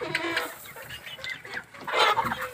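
Chickens clucking inside a backyard coop where the flock is kept, several hens calling in overlapping bursts close by, with a louder flurry of clucks near the end.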